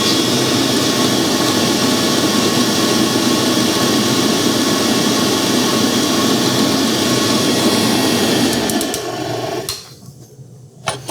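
A Globe SP05 commercial stand mixer runs with a steady, loud motor whine and hum for about nine seconds, then winds down and stops, leaving quiet with a few small clicks.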